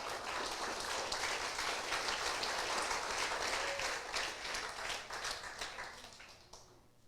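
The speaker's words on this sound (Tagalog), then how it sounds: "Husgay niyong palakpak." A congregation in church applauds in a sustained, fairly distant wash of clapping that stays steady for several seconds, then fades out toward the end.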